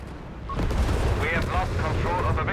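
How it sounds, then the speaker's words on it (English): Anti-tank guns fire in an ambush in the World War II strategy game Company of Heroes 3, with several loud, sharp cannon blasts and battle noise sounding under steady talk from a commentator. "there you go, Arcot here ambushed by the double anti-tank guns"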